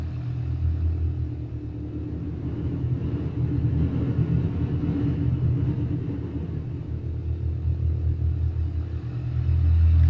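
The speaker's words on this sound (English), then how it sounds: "The sound of this plane." Cessna 172 piston engine idling in X-Plane 12 on bush wheels, a steady low throbbing drone that holds evenly throughout and swells slightly louder near the end, with no talking.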